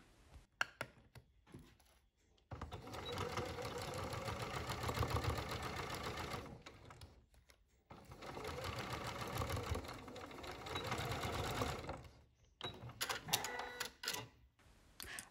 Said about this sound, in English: stitch them together across the top edge in the same way